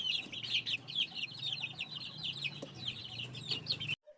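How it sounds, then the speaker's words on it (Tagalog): Incubator-hatched chicks peep and chirp in a busy, continuous chorus close by in a backyard, with a low steady hum underneath until everything cuts off abruptly just before the end. "Ito namang mga incubator hatch naming mga sisiw ay matatakaw na agad."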